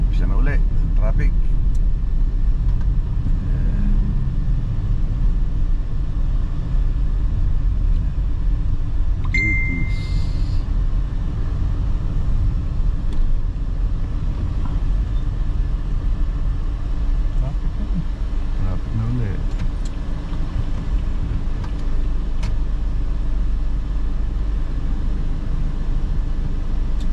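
Steady low road-traffic rumble runs throughout, with a brief chime-like ding near the middle, all beneath continuous talking.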